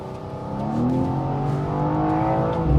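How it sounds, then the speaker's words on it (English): BMW M2 engine revs hard toward 7200 RPM while driving on narrow roads, a loud rising mechanical howl that climbs steadily in pitch from inside the car, with no talking. "this engine, it loves to rev all the way to 7200 RPM"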